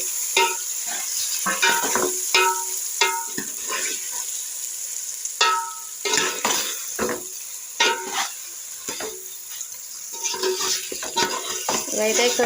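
Marinated fish coated in turmeric and ginger garlic paste is stirred in a hot pan for a village-style fish curry, with repeated scraping and clinking strokes over a steady sizzle, close and fairly loud.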